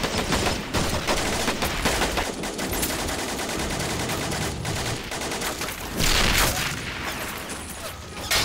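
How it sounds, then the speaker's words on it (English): German MG42 machine guns open up in a World War II battle near Carentan in Men of War, a sustained loud rattle of automatic fire layered with distant booms, continuous throughout and swelling near the end. "MG's opened up."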